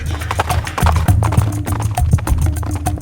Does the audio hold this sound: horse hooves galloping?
yes